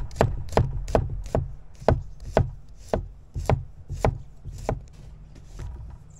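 Knife chopping celery on a cutting board, a dozen or so sharp, close knocks in a fairly steady rhythm that slows and softens toward the end, with no talking.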